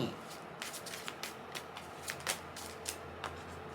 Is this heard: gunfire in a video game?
no